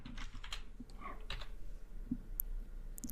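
Quiet, close-up typing on a computer keyboard, with a few scattered key clicks and taps spread unevenly across a few seconds.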